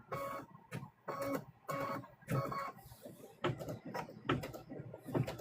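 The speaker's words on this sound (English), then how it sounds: "These will stitch out fairly quickly, y'all." An embroidery machine stitching out Christmas ornaments gives a rhythmic series of close, moderately loud mechanical bursts, each a short whirring clatter separated by brief pauses, repeating about twice a second.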